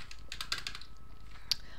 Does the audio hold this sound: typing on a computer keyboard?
yes